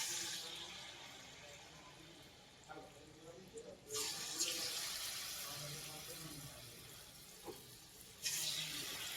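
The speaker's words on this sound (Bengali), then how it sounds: "তেলটা হিট হয়ে গেছে, এবার আমি এর মধ্যে একটা একটা করে ছেড়ে দেবো।" Pakoras lowered one at a time into hot oil, setting off a steady hiss of frying that swells sharply at two points as fresh pieces go in, with a faint voice underneath.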